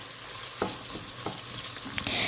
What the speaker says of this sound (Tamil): இப்போ எண்ணெயிலே வெங்காயம் நல்லா வதங்கட்டும்